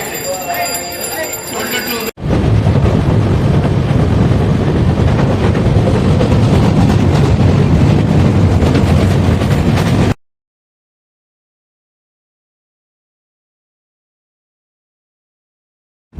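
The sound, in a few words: railway station with trains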